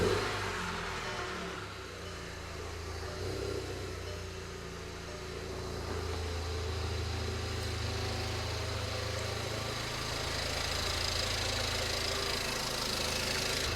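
Volkswagen GLI with a big turbo and CTS intake starting and settling into a steady idle, a continuous close engine rumble with a slight rise in level toward the end.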